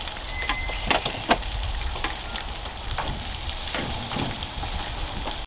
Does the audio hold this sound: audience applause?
no